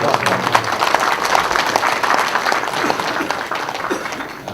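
An audience at a Gyeonggi Province budget policy meeting breaks into steady, dense applause, loud and close, with a few voices mixed in among the clapping.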